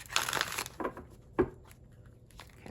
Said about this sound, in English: Go ahead and get 2 more shuffles here,